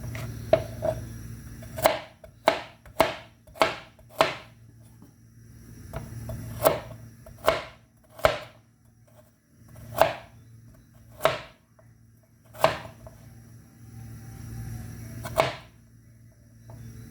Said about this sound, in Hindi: गाजर को भी मोटा मोटा काट के